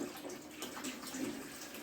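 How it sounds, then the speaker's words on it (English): Hot water from a water bath canning pot is dumped into a kitchen sink, making a steady splashing, gurgling pour that runs unbroken at moderate loudness with no voices. "I'm just going to dump the hot water back into the sink."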